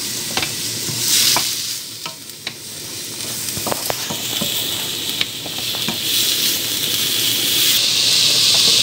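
Garlic is stirred and fried in a pan for shrimp spring rolls, making a loud close sizzle with scraping stirring strokes and clicks of the utensil, and no talk.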